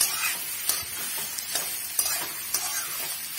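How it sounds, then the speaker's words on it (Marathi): Onion frying in hot oil for chicken sauce fry: a steady, bright sizzling hiss dotted with small pops and crackles, close and continuous, with no voices. "आता या कांद्याला मस्त पैकी भाजून घेऊया"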